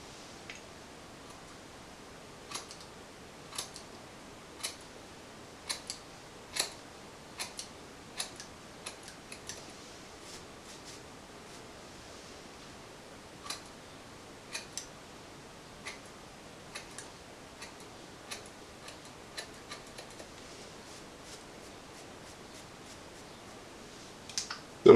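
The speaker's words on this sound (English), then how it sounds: "you want to make sure that you're combing that out slightly to the front to cut it off." Scissors trimming long beard hair at home, sparse crisp snips scattered irregularly over a quiet background, close and fairly faint, no talking.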